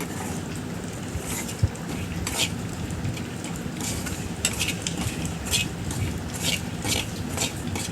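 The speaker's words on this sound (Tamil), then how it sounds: "நெய்யில் கடலை மாவு நல்லா ரோஸ்ட் ஆச்சுன்னா அந்த ஸ்மெல் வரும். அதுக்காக தான் நம்ம கடலை மாவு நெய்யில் வறுக்கிறோம்" Gram flour roasting in ghee in a pan, a soft continuous sizzle with scraping and stirring of a spoon against the pan, steady and close, with little break.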